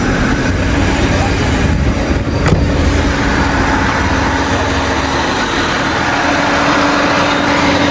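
A Nissan Sunny engine, just started after sitting unused and being rebuilt following a seizure, runs at a steady idle with a continuous rumbling drone and a faint whine, loud and close throughout.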